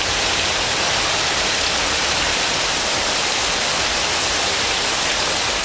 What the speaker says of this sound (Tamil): சேலம் மாவட்டம் ஆத்தூர் சுற்றுவட்டார பகுதிகளில் பெய்த மழையால் வெப்பம் தணிந்து குளிர்ச்சி நிலவியது.